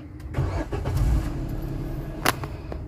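A Suzuki Espresso car engine cranks and catches, starter whirring briefly before the motor settles into a low, steady idle, heard up close inside the vehicle.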